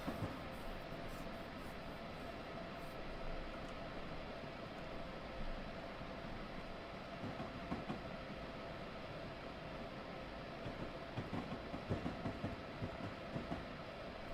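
An Amtrak train in a train simulator game running the New York to New Haven line rumbles along its rails in a dense, steady roar with faint clicking joints, continuous and close throughout with no talking.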